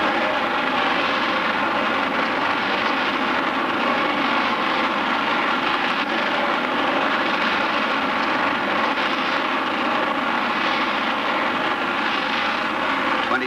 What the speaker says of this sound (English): Seconds and 280 tons of fuel later, the rocket cleared the pad.